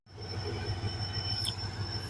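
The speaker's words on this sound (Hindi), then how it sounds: "151 अप शाह लतीफ़ एक्सप्रेस जावेद जी से डिपार्ट होते हुए, जिसकी लीड पर है आज HGMU 30R8204" The Shah Latif Express passenger train, led by an HGMU locomotive, departs with a continuous close rumble of wheels on rails and a thin, sustained high squeal above it.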